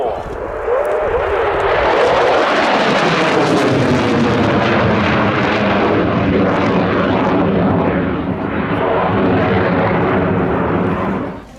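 A Eurofighter Typhoon FGR-4 jet roars past at an air show, a loud, sustained broadband engine blast that swells in and holds for several seconds, with a commentator's voice over it.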